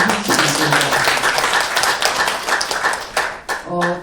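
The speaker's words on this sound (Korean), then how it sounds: "다시 한번 좀 박수로 환영해 주시겠습니다" Audience applause at a Korean environmental education expert forum panel, a dense wash of clapping hands filling the room for several seconds, with a voice speaking over it near the end.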